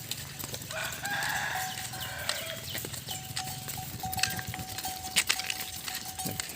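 A rooster crows at a farm pen, its call rising and falling through the middle of the clip amid scattered clucks, footsteps and background farmyard noise, fairly close and moderately loud.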